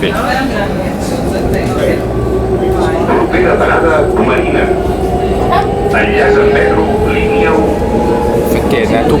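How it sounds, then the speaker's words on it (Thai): Inside a T4 tram running through Barcelona, a steady, loud rumble of wheels and motor with rising whines and squeals, while people talk over it. "ตอนนี้เราก็อยู่บนรถราง T4 นะ"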